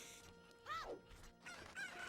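Cuccos, the chickens of The Legend of Zelda: Ocarina of Time, let out squawking, rising and falling cries in two quick bursts, with a faint game background underneath and no voices.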